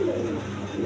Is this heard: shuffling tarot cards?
no